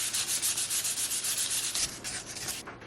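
A solid wood sword is sanded with rapid back-and-forth rubbing strokes, a dense, close scratchy hiss that eases off near the end.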